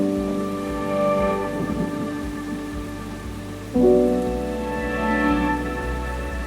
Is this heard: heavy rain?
yes